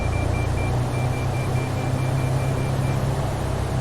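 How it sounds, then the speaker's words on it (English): A steady electronic cockpit beep in a Cessna 152 within the X-Plane 12 flight simulator, heard as a repeated thin tone over a constant loud engine drone through the whole stretch. "I've never heard that beep before"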